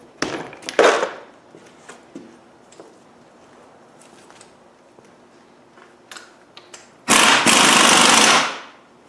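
An impact gun spins up and tightens the nut on an LT230 transfer box. It is one loud, rapid hammering burst of a second or so, after scattered clanks and light tool knocks.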